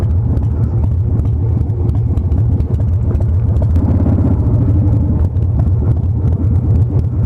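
A new motorcycle engine idles steadily with an even, low rumbling throb close by, and no voices are heard.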